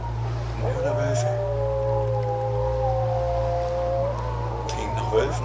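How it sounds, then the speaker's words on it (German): Wolves howl at night, one long drawn-out cry with a second voice layered alongside, carrying from a distance over a steady low droning hum. "Klingt nach Wölfen."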